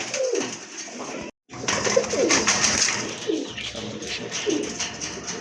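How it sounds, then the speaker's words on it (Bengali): Suachandan pigeons cooing close by, several soft repeated coos spread across the clip, with a brief silent break near the start. "মাশাআল্লাহ আরেক জোড়া কবুতর, সুয়াচন্দন কবুতর।"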